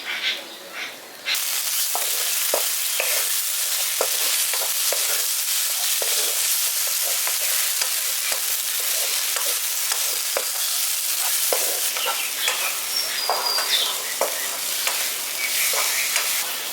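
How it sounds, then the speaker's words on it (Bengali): Chopped tomato fries with spice masala in a pan for a capsicum masala curry, a loud continuous sizzle close up, with frequent scrapes and taps of a stirring utensil throughout and no speech. "টমেটোগুলো দিয়ে দেওয়ার পর মশলাটার সঙ্গে ভালো করে একটু কষিয়ে নিয়েছি"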